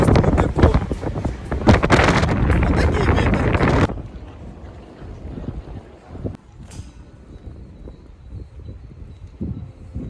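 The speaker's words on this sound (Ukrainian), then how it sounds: "Тут дуже сильний вітер, тому що це найвища точка міста." Strong gusty wind at a high point above Prague buffets the microphone with loud, roaring broadband noise for the first four seconds, then eases to a lower, steadier rush with occasional gusts.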